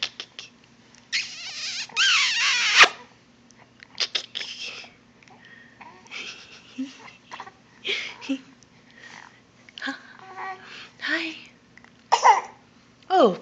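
A baby gives a few short coughs and throaty noises between soft babbling and squeals while an adult speaks quietly nearby in a calm indoor room.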